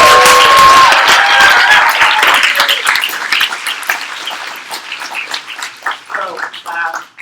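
An audience at a ward primary election debate gives both candidates a round of applause, loud clapping with a few cheers that gradually thins and fades toward the end.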